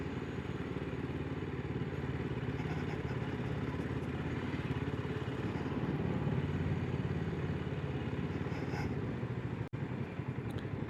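Retro cafe racer motorcycle engine drones steadily during a test ride, a continuous close throbbing hum with wind rush, briefly cutting out near the end.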